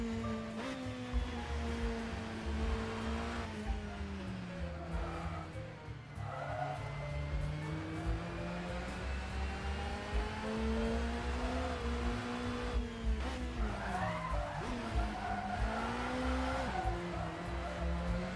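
A Vauxhall touring car driven in the Assetto Corsa racing game, its engine whining up and down through gear changes with tire squeal at several points, continuous and loud, with no talk over it.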